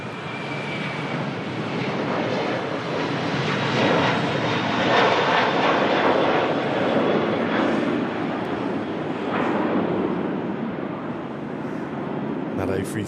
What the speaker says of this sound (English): That A330 blasting out of Manchester Airport.